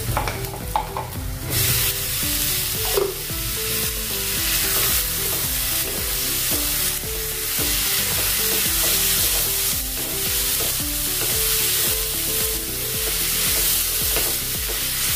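A spoon stirs chana dal with onion and tomatoes sizzling in a pan, producing steady frying hiss punctuated by rhythmic scraping strokes, close and continuous with no one speaking.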